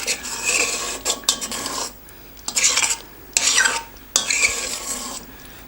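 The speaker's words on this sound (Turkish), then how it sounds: "Bunu dibinle spatula ile ya da bir kaşıkla güzelce karıştırın" Spoon or spatula scraping and stirring through thick Hungarian goulash in a pot, coming in several loud raspy bursts with short pauses between, close up and without talk.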